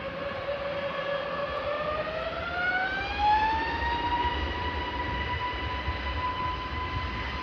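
A Hunan Airlines jet takes off at Kunming Changshui airport, its engines roaring steadily with a rising whine that climbs in pitch and then holds, loud and sustained.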